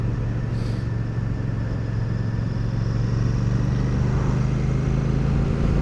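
A Royal Enfield Classic 650 motorcycle ridden along a very bumpy road, its engine holding a steady, close, unbroken drone mixed with wind rush throughout, with no talking.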